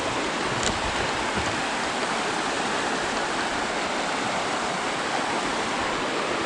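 River water rushes steadily beneath a swinging bridge on a mountain hiking trail, a broad continuous hiss and gurgle of flowing current, close and fairly loud with no voices.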